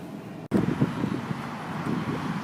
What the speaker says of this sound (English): It is windy today. Good south wind right there.